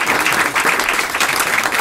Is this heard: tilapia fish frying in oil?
no